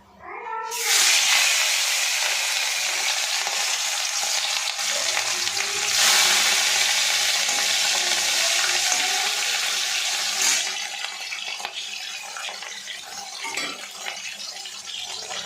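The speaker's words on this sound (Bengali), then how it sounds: "দেখো তেলটা ভালোই গরম হয়ে এসেছে, এবার মাছগুলো এক একটা করে ছেড়ে দেবো।" Pieces of rohu fish sizzle loudly in hot oil for a Bengali fish curry, a dense continuous frying hiss that flares as each piece drops in and stays steady throughout, with no talking.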